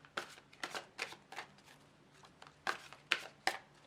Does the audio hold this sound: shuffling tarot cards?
yes